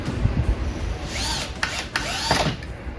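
A cordless drill driver sets a screw into wood and whines under load, then its clutch slips at the end with quick repeated ratcheting clicks, loud and close with no talking.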